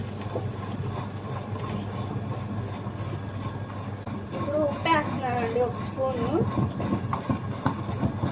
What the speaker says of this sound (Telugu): ఇప్పుడు వీటిని గ్రైండర్కి వేసుకుందాము